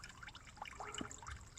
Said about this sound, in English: We got little waterfalls here